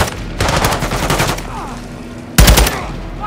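Gunfire in Call of Duty Modern Warfare II, a training area with a tank nearby: dense bursts of automatic fire, then a sharper, louder volley near the end, with faint voices underneath.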